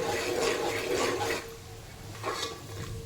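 Peanuts are stirred as they dry-roast in a pan, giving close, scratchy scraping and rustling for the first second and a half, then fading to quieter, sparse stirring.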